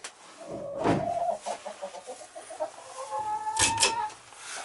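Chickens in a heated coop cluck and call close by, with a few louder rhythmic bursts rising over a steady run of quieter clucks.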